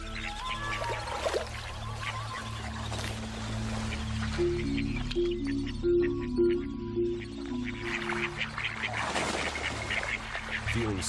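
A flock of ducks quacks in scattered bursts, with a louder stretch of calls toward the end over a steady low hum and a faint voice.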